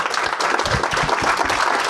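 Dense applause from an audience at a startup pitch event, steady and moderately loud throughout with no voices over it.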